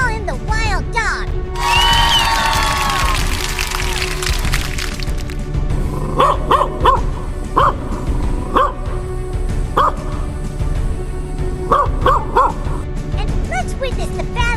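A dog barks in short, sharp bursts, several loud barks spaced irregularly across the second half, after a stretch of high whining or yowling cries, with a voice briefly talking early on.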